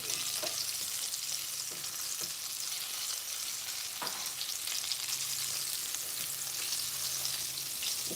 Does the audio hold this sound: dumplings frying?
yes